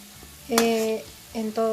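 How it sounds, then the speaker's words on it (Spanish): Gulab jamun fry and sizzle in hot oil as they are stirred, with a couple of short bursts of bubbling and spattering rising over a quieter background. "cuando vayan friendo pues tienen que ir moviendo para que se vaya friendo homogéneamente"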